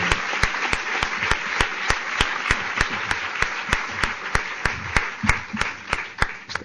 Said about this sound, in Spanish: No me podéis aplaudir todo el tiempo.